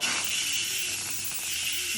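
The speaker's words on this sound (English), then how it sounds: "because we have to let the steam out" Steam hissing out of a pot of cooking rice as it is vented, a steady broad rush held at an even level for the whole stretch, with no talking.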